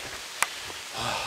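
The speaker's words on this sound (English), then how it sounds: "I love running in the rain." Steady rain falling outdoors, a soft continuous patter with one sharp close tap partway through and slightly heavier hiss toward the end; no talking.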